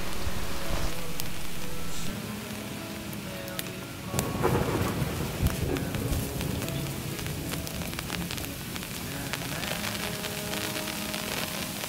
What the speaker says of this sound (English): Thunder is also emanating from the sky,